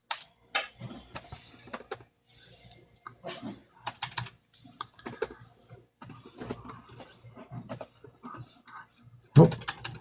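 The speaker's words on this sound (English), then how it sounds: "If you hear me typing away," Rapid clicky typing on a computer keyboard, close and moderately loud, in uneven bursts with short pauses and a sharper knock near the end.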